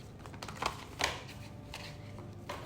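Tarot cards being shuffled by hand, with soft papery riffles and flicks at a steady close range, a few sharper snaps standing out over quiet room tone, no speech.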